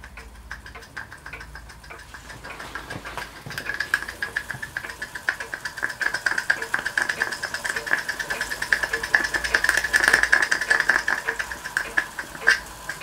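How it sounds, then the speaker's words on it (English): A scratch-built oscillating steam engine runs, its rapid, even chuffing and ticking building up and holding steady, close by and fairly loud. "Any engine that you can get to run like that, particularly an oscillator, there is very little wrong with it."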